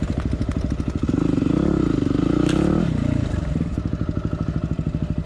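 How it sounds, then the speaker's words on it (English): A Royal Enfield motorcycle rides a rough off-road trail, its single-cylinder engine thumping in an even loping rhythm up close, the throttle briefly opening into a louder rising drone before settling back to the steady thump. "there's a Royal Enfield going down there."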